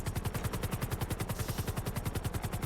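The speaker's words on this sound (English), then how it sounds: "I have shots fired coming from the heli" Rapid automatic gunfire from a helicopter in GTA roleplay, a steady fast rattle of shots over the thudding rotor, continuous and moderately distant.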